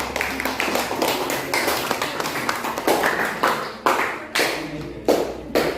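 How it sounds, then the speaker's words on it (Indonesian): A classroom gives applause for a student discussion group, with scattered, uneven hand claps that build into sharper bursts toward the end and some faint talk underneath. "Kita beri aplaus dulu untuk kelompok 3."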